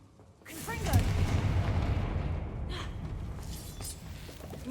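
The Confringo fire spell from Hogwarts Legacy goes off as a heavy rumbling blast with a crackling, booming tail that slowly fades, loud and close.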